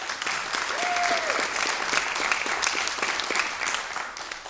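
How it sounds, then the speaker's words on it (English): Sustained round of applause from an audience at a climate justice dialogue honoring an organizer, dense steady clapping throughout with a brief tonal whistle-like note near the start. "Please give her a round of applause."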